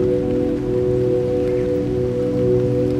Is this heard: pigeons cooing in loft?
no